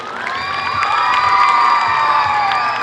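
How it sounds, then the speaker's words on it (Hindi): Children cheer, shout and whoop in a loud, sustained crowd roar at a residential school event in Patna, with high voices rising together and only scattered clapping beneath. "जोरदार तालियां बच्चों।"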